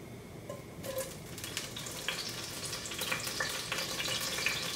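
Garlic sizzles in hot olive oil for a Cuban egg drop soup. A steady, close crackling hiss builds slightly and holds throughout, with no voices.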